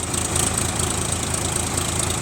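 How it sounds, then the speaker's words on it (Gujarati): A John Deere 5105 tractor engine idling at around 1100 rpm, with a steady, even diesel firing rhythm close up and no one speaking over it. "અહીંયા પડી છે જોન ડિયર એકાવન જીરો પોચ હવે આપણે ટ્રેક્ટરનું પરફોર્મન્સ તમને એનું ફાયરિંગ સોંભળો તમે"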